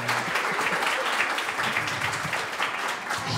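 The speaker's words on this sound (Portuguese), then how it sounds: "Salva de palmas." A room of people at an arts education talk in Brazil breaks into a round of applause, a dense, steady clapping that fills the space and holds loudly throughout.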